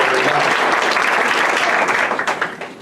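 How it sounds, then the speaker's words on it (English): Audience applause fills a conference hall at a human trafficking awareness event, steady and dense clapping that holds for about two seconds before thinning out and fading quickly. "you can give him a big round of applause"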